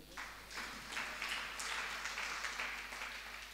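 Audience clapping at a religious sermon by a Jain monk, a soft, fairly distant patter of many hands that swells quickly and holds steady through the moment.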